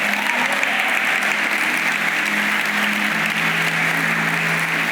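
A church congregation applauds during a Sunday sermon, a thick, even wash of clapping from many people that holds steady and loud throughout, with a faint sustained musical tone underneath.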